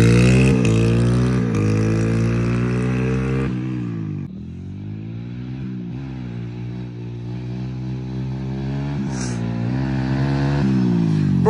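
A Honda CRF100 dirt bike running on E-85 fuel revs hard and climbs through its gears. The buzzy engine note is steady and loud, with pitch drops at each shift, and no voices are heard.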